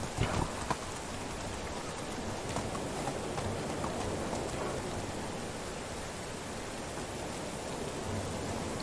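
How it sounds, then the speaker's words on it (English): Steady rain in the video game Medieval Dynasty hisses evenly throughout, a dense wash of drops with a few brief louder patters near the start. "there's our sirens in the rain, Stesso."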